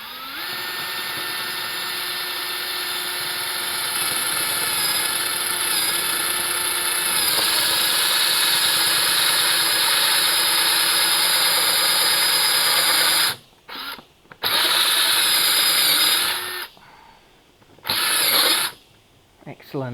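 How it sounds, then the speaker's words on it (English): A power drill whirs steadily at high speed drilling a hole in plastic for several seconds, then stops and starts in short bursts near the end. "When you're drilling, don't force it, let your drill do the work."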